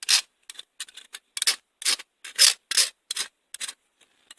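Sandpaper rubs over wood for a homemade one-handed book reader, a quick series of about a dozen short, crisp scratching strokes in an uneven rhythm against silence.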